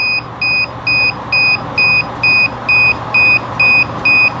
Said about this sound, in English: the noise we're hearing is the alarm